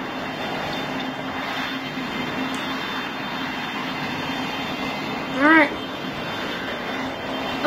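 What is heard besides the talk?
APU and aircraft engines starting in a pilot training simulator game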